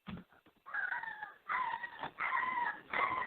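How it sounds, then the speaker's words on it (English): An injured dog whimpering and whining in four drawn-out, quavering cries with short breaks between them, faint and thin. "Sounds like your dog got injured."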